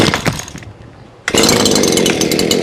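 A Stihl KM94R two-stroke engine running on 100:1 oil mix with fuel additive bursts loudly to life after a short lull, then holds a steady, close, buzzing idle.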